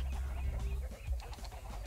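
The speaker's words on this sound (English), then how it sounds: "Cluck the chickens again." Chickens cluck repeatedly in the Shrek 2 video game, a busy run of close, moderately loud game-audio clucks with no talking over them.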